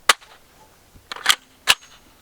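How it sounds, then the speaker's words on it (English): Three 5.7x28 rounds of Vanguard Outfitter hollow point ammunition are fired at body armor, each a sharp, loud crack, unevenly spaced with a long gap after the first and two close together near the end. "we're loaded up with 3 rounds of these Vanguard Outfitter hollow points"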